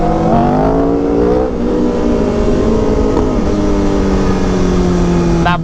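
A BMW S1000RR motorcycle with a drag setup roars loudly and steadily at high revs, its pitch wavering slightly as the throttle shifts, close and overpowering throughout.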